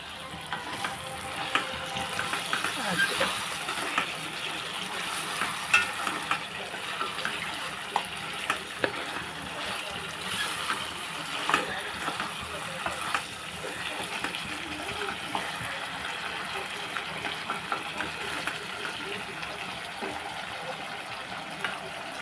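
Crab curry frying in a pan gives a steady broadband sizzle with a faint watery stir running throughout, moderately loud and close, with no voices over it.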